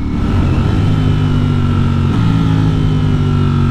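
A 2022 Ducati Streetfighter V4S motorcycle engine and exhaust run steadily with a deep, loud, continuous drone rich in low rumble, holding a fairly even note throughout with no talk over it.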